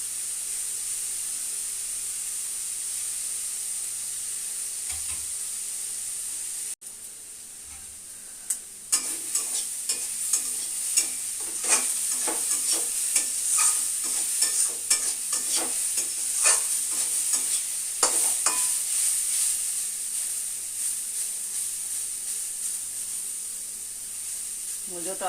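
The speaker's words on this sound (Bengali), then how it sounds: "মুজোটা হালকা ভাজা ভাজা হয়ে গেছে" Radish pieces frying lightly in a pan without spice paste, stirred throughout: a steady close sizzle with repeated scraping and clattering stir strokes that grow busier partway through.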